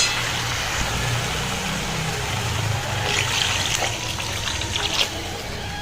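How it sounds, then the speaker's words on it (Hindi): Water poured into a pan of Odia-style fish curry with mustard-paste masala and turmeric, a steady broadband splashing pour running throughout at moderate volume with a low background hum, no voices. "एबे आम पानी देदबा।"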